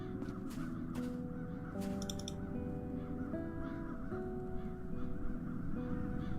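A crow caws repeatedly in the fantasy adventure game Chains of Satinav, its harsh calls sounding over layered ambient game music with no speech.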